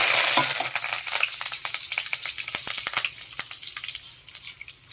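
Cumin seeds and curry leaves sizzle in hot oil in a pan for a ridge gourd curry, a close crackling spatter with dense rapid pops that fade gradually toward the end.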